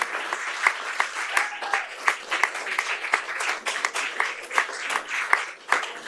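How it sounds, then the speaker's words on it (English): A council meeting audience claps for honorees, a moderate crowd applauding with steady pattering claps and a few sharper accents throughout. "Let's clap for them, please."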